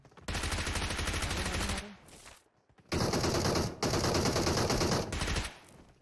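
Rapid automatic gunfire from the battle royale game BGMI rattles in two long loud bursts separated by a short gap, with a brief quieter pause at the end.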